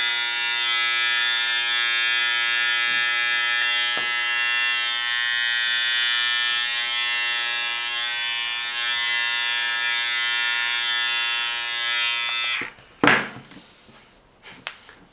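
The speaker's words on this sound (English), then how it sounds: "Even for a body trimmer is doing very good job." A Silvercrest 5-in-1 hair and beard trimmer used as a body trimmer buzzes steadily and loudly up close for several seconds, then cuts off, followed by a few brief handling knocks.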